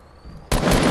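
Gunfire in the video game Fortnite, a quiet lead-in followed by a sudden loud, dense burst of rapid shots close up, without talk.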